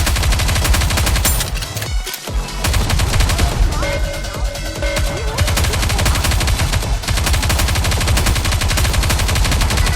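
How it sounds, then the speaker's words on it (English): Rapid, sustained gunfire from a Goddess of Victory: Nikke battle, continuous loud automatic shots layered with music and effects, with one brief gap before the firing resumes. "We need to fire straight ahead!"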